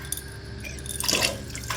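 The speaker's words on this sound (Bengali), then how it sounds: "এই যে ধরো হাতটা ধুয়ে নিই।" Hands are rinsed under running water in a kitchen sink while cooking prawns, brief splashing and dripping with a brighter gush near the end.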